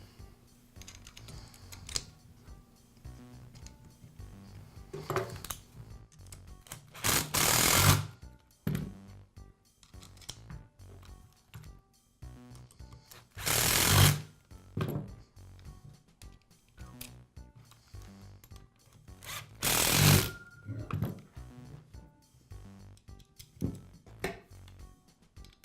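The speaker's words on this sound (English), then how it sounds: "Now reinstall the armature and gearbox assembly back into the motor housing. And I'll secure it with the screws." Screws are driven in to secure the armature and gearbox assembly in the motor housing of a Makita grinder. Three short, loud driver bursts come at regular intervals, with small clicks and handling noises between them, up close, with no speech.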